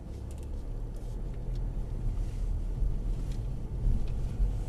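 Mercedes A-Class car pulling away from a standstill as the brake is released, a steady low engine rumble with some wind buffeting, gradually swelling slightly in loudness, no talking.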